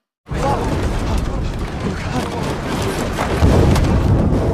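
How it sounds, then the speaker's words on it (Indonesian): A lightning strike hits an airliner in a film scene: a sudden heavy boom bursts in after brief silence, then a sustained loud rumbling roar of noise and rattling that swells slightly toward the end. "Pesawat Thor terkena sambaran petir"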